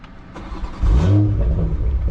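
A BMW fitted with an Aulitsky exhaust and Aulitsky downpipe revs up close, its engine rising from a low idle into a loud, sustained rev that holds steady to the end.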